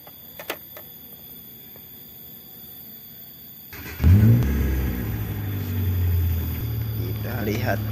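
A fuel-injected Hyundai car engine starts and settles into a loud, steady running rumble with slight revving, close to the microphone after a quieter stretch.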